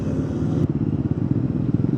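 Bajaj NS400Z motorcycle engine revs and pulls in a choppy, pulsing rumble at low revs, close and steady, with a faint clatter over the two seconds.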